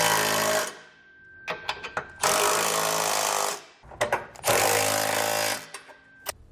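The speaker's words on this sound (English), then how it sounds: "we can use an 11/16 socket to snug it all down." A power tool with an 11/16 socket tightening bolts on a Draw-Tite Max-Frame trailer hitch receiver: two loud, sustained rattling impact bursts separated by clanks and brief knocks.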